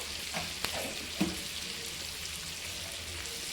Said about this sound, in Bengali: নুন দেওয়ার পরে আবার আমি ভালো করে ভেজে নেব